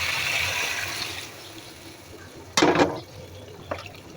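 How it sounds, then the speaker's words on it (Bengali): Water poured into a cooking pan over a simmering curry masala in a home kitchen: a brief, close splashing pour burst, then a faint second splash, with a softer hiss before it. "এবার পানি দিয়ে দিব।"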